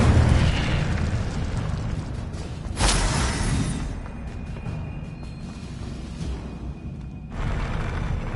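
Fiery bursts of the Incendio spell in Hogwarts Legacy: a loud roaring whoosh at the start, a sharp flare near three seconds, then a quieter hissing crackle before another surge near the end, with no voices.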